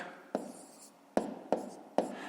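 A pen writes numbers by hand on paper while working a long multiplication, a few sharp taps followed by soft scratchy strokes, close and quiet with no talking.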